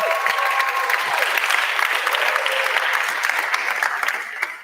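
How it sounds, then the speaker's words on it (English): An audience at the InCube 2020 final event claps loudly and continuously, a dense, even roar of applause that holds steady before easing off at the end. "Please stand up and give her a huge applause."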